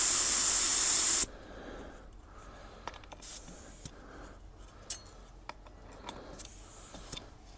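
Compressed air hisses loudly into a tire on a 1975 Ford 550 backhoe for just over a second, then cuts off, leaving faint scattered clicks and handling noises.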